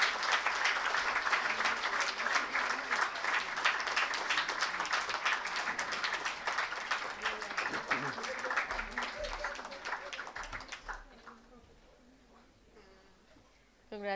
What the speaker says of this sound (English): A big hand for them.